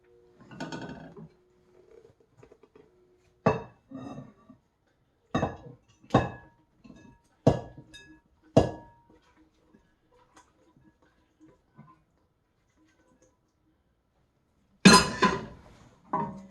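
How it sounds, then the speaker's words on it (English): Pesto pasta being spooned from a pan into a dish, a sparse series of distinct metallic clinks and taps separated by quiet pauses, ending in a louder scrape. "I'm going to transfer this to a dish so you can see it."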